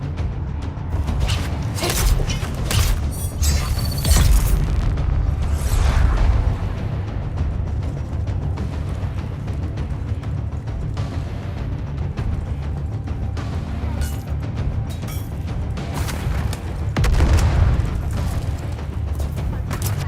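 Grenade blasts in Dune Awakening come as heavy booms and rumbling bursts, several in a row, mixed with creaking, mechanical game sounds over a steady low background.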